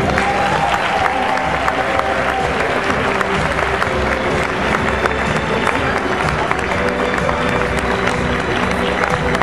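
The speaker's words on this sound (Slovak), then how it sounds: "Potleskom privítajme moderátorov dnešného plesu Tatianu a Mariana." A large crowd at a Slovak community ball gives a loud, dense round of applause to welcome the evening's hosts, sustained clapping filling the hall without a break.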